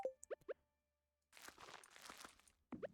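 Deluxe Speed-Gro fertilizer is applied to tilled, watered soil in Stardew Valley: a few quick, bright cartoon plops, a pause, then a soft rustling burst before a last plop, all close and clean with no voices.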